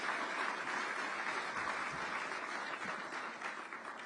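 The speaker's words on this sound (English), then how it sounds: "everyone give one more round of applause to Congressman Riggleman" Steady audience applause for Congressman Riggleman at a political event, continuous clapping heard from a distance at moderate level throughout.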